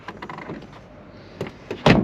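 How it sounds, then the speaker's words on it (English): The door of an Audi TT, newly cleared of its catch on the wing, opens with soft clicks and light mechanical movement, ending in a louder thunk near the close. It is near and quiet overall, with no talk. "So when the door opens, it doesn't catch anymore."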